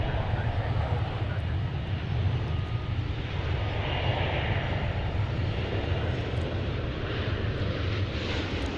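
A yellow Spirit Airlines jet passes at DFW airport, its engine roar loud and unbroken from start to finish, with voices talking over it.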